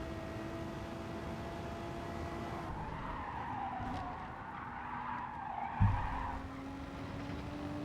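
Race car in Gran Turismo Sport braking hard into a corner, tires skidding and squealing in a sustained screech over steady engine drone, with a brief louder bump near the end.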